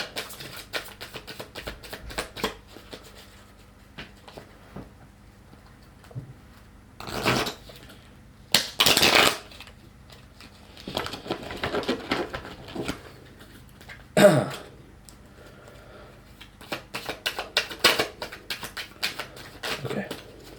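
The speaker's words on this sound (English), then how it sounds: "then I'm gonna do my last shuffle" Playing cards riffle shuffled by hand during practice, a few short bursts of rapid fluttering clicks separated by quiet pauses, close and fairly soft.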